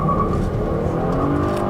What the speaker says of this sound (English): It sounds rather angry, the engine